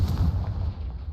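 A Confringo blast spell goes off in Hogwarts Legacy: a deep, booming explosion with a heavy low rumble that fills the whole moment, loud and close.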